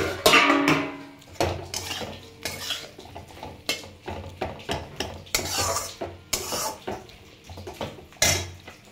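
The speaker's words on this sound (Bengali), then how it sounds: "এবারে ফ্লেমটা হাই করে একটু নেড়ে চেড়ে নিচ্ছি" Chopped flat beans (shim) stirred in a pan over high flame, with repeated scraping and clinking of a utensil against metal in an irregular rhythm, close and fairly loud, no talking.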